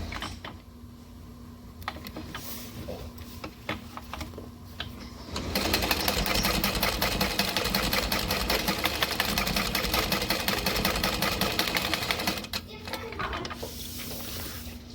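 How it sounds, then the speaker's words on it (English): A sewing machine runs long basting stitches through a backpack, starting with a short burst, then stitching steadily for several seconds close up before stopping, with quiet handling sounds around it. "I'll go ahead and stitch like baste back up, but not 1/4 of an inch in"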